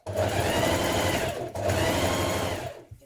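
A sewing machine runs a steady, close, even stitch along a pocket seam on dungarees, topstitching near the edge in two continuous bursts with a brief pause between them.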